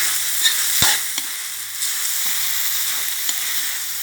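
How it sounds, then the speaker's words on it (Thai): Fish stir-fried with red curry paste and cumin leaves gives a steady, close sizzle and crackle. A few sharp clicks of a utensil against the pan break through the frying, and no one speaks. "แล้วก็ผัดให้เข้ากันนะคะ ให้ใบยี่หร่าสลบ"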